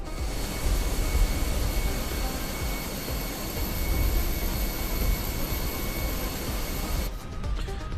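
An Airbus A319 jet engine hums at a steady drone in Microsoft Flight Simulator 2020, a broad continuous roar with a faint high whine. It cuts off sharply near the end.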